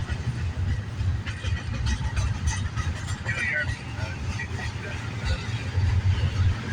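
Two CN freight trains run side by side in Vaughan, Ontario, keeping up a continuous heavy rumble of wheels and railcars, with a voice heard faintly over the rolling noise.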